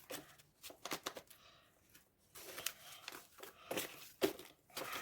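Close, quiet crinkling and rustling of a paper surprise packet with a heart print being handled, in irregular soft bursts with short pauses between, no speech.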